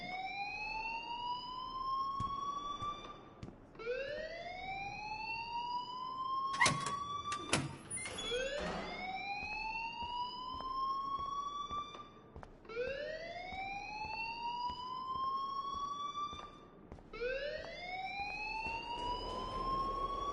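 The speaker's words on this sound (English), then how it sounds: "please turn off that alarm since that's your job" A rising, wailing siren-like alarm rings repeatedly in the video game Life is Strange, in steady cycles of about two seconds each, briefly broken by a few sharp clanking hits.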